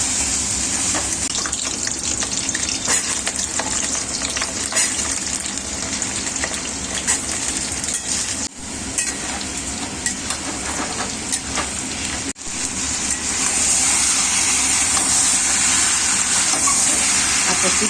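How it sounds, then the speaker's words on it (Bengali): Nigella seeds temper in hot oil, giving a steady, loud, hissing sizzle that runs unbroken throughout, with only a couple of momentary dips. "কালো জিরে ফোড়ন।"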